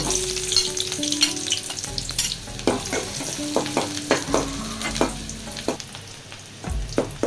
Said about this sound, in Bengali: তেল গরম হয়ে গেছে, পেঁয়াজ কুচি দিব।